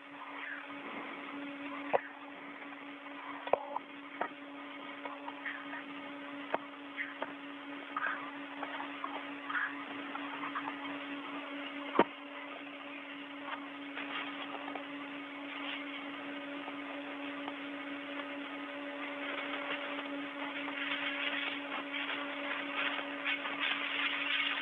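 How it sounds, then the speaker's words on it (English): A tool tightening screws on the International Space Station during a Russian cosmonauts' spacewalk, heard through a narrow radio link as a steady mechanical whine and hum broken by sharp clicks and ticks. "So moving to closed position, starting tighten screw number 5"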